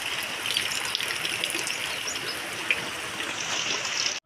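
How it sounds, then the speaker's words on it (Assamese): Heavy rain pours down outside a house, a steady close hiss of falling water and runoff that stays even for the whole stretch with no voices. "চাওক কেনেকুৱা বৰষুণ দি আছে"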